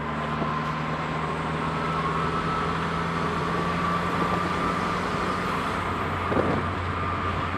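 A 1988 Dodge Shelby Shadow GS with an HKS exhaust on a Mitsubishi flange rumbles in a steady, even drone, the engine holding a constant low hum with no talking.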